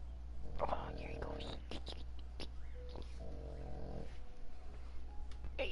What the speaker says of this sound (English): Who's a good dog? You're a good boy.